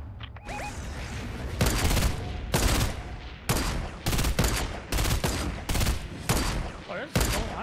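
Repeated bursts of automatic gunfire in the video game Fortnite, loud and close, coming in steady volleys with short gaps between them.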